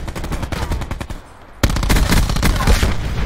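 Automatic gunfire rattles in rapid continuous bursts in the video game Black Ops 4, loud and close, easing briefly before another dense volley breaks out.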